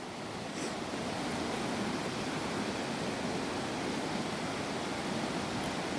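Steady broadband rush of a waterfall pouring clean water, a continuous dense roar with no breaks, close and fairly loud throughout.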